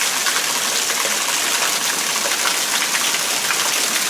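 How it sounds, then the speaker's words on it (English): Heavy rain pours steadily off a house onto a block below in a dense, continuous wash of noise, water gushing and splashing close by with no pauses. "we are getting rain. Pouring off the house down there."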